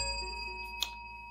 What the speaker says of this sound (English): I like the bell of blessing as Princess normally says it